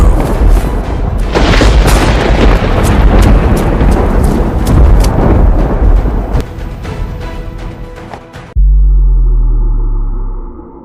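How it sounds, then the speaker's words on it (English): Gunfire sound effect for a crime-drama chase as men flee into the woods: a loud, dense barrage of rapid cracks and booms that runs for several seconds, then cuts to a single deep, rumbling boom that fades. "dodging gunfire as they go"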